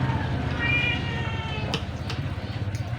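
A noisy cat meows in a drawn-out, whining call, followed by a few short sharp sounds against a low background hum, with no talking.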